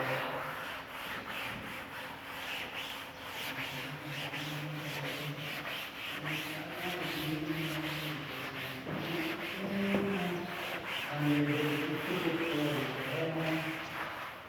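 A classroom board gets wiped clean with steady back-and-forth rubbing strokes, a soft rhythmic scrubbing that continues for about fifteen seconds at moderate volume with no talking.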